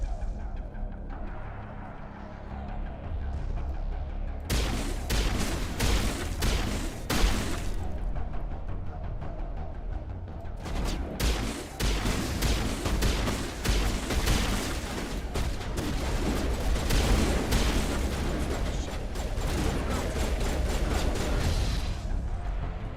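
Enemy gunfire in Mass Effect, long stretches of rapid crackling shots in bursts, with a pause before the shooting resumes and continues loud to the end, over low background rumble.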